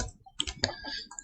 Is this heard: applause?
no